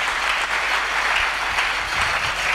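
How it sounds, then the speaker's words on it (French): A church congregation at a sermon claps steadily and continuously in applause, a dense, sustained patter filling the whole moment with no speech over it. "Acclamons très fort pour le roi."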